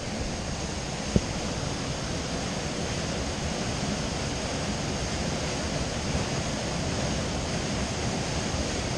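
A waterfall pours behind stacked rocks, heard up close as a loud, steady, unbroken rush of white noise. A single faint knock sounds briefly near the start.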